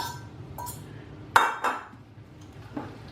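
Ingredients being mixed into salmon in a bowl, heard as a few sharp clinks of utensil against the bowl, one loud strike in the middle, amid soft scraping.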